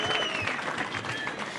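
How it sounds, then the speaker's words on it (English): An audience at a pro surfing event presentation breaks into applause, a brief dense burst of clapping close by and loud, with a few whistles mixed in. "Give yourself a round of applause."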